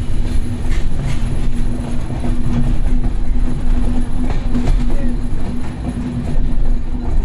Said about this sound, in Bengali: 10 মিনিটে আমাদের ট্রেনটা টাঙ্গাইলে প্রবেশ করতেছে।